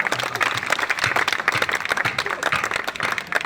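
Audience applause at a kavi sammelan poetry gathering during a Jhanda Mela, a dense, steady crowd of clapping hands filling the hall without pause.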